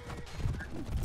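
Horse hooves clip-clop at a steady ride in the medieval combat video game For Honor, a continuous close rhythm mixed with low rumble and faint background game noise.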